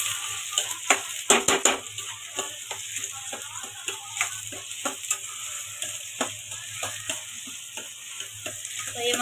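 Chopped onions fry in a pan for masala bhindi, a steady close sizzle with frequent small stirring clicks and scrapes, some sharper spoon knocks near the start, with no talking.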